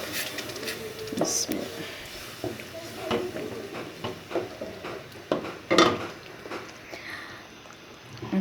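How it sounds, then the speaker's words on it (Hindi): A spoon stirs masala and water in a cooking pot, giving scattered scraping clinks and soft wet knocks at irregular intervals, fairly quiet, with one sharper metallic clatter partway through. "अब आप इसमें अच्छे तरीके से चम्मच को हिलाएंगे।"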